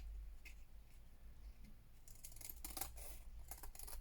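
Scissors trimming paper for a collage page, a quick run of close, crisp snips clustered toward the end over a faint background hum.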